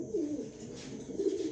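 Male pigeon offered for sale, cooing close by in a low, soft, rolling coo that swells twice over a second and a half.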